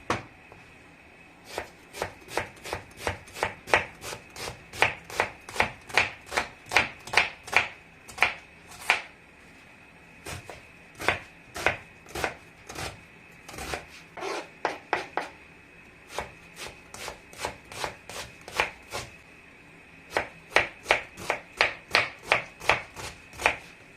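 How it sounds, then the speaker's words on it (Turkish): Rapid, steady knife chops on a cutting board as onions are cut for pide filling, sharp rhythmic taps in long bursts with brief pauses between, close and clear with no talking. "4-5 baş orta boy 4-5 baş soğanımızı da yemeklik bir şekilde doğruyoruz."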